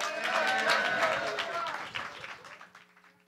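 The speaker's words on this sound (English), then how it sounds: "Thank you for that small smattering of applause." Brief, modest applause from an audience at a hip-hop event after an introduction, loud at first then thinning and fading out within a few seconds.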